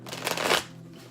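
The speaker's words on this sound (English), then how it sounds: "So I'm shuffling the deck." A tarot card deck is riffled in a short burst of crisp, papery flutter lasting about half a second, close and fairly loud, then fading into quiet room tone.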